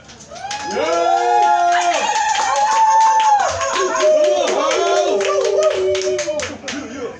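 Several people clap in loud, uneven bursts while voices chatter and shout over them, with children among them.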